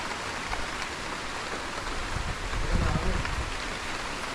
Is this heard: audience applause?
no